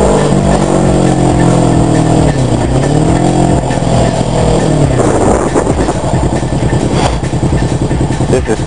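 A black car with tinted windows speeds and revs loudly and close by, its engine pitch climbing and falling in sweeping surges and then settling into a rough, pulsing drone.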